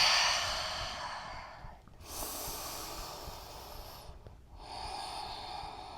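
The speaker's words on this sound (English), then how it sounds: "When you get to the top, take it through a couple of those cleansing breaths" Slow, deep breaths during a power yoga class for shoulders and core, heard close up: a long audible exhale, a sharp inhale and another long sighing breath, with no talking.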